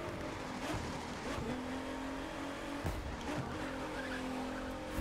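A 2017 Ford GT drifts through corners in The Crew 2 racing game, its tires squealing in long sliding bursts over a steady engine drone, with no talk.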